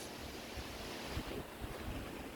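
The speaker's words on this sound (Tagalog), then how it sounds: "mahangin dito sa labas" Wind blows outdoors beside a parked car, a steady low roar with faint gusts buffeting the microphone and no one speaking.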